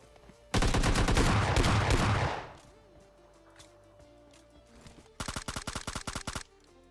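Automatic gunfire in the mobile shooter PUBG Mobile Lite, with a loud sustained burst followed by a shorter, quieter burst of rapid shots several seconds later.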